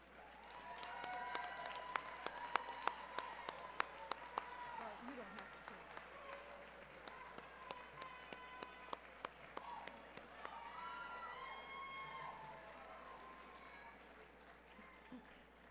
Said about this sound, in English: Would the graduates please turn around and applaud your family and friends on this very special day?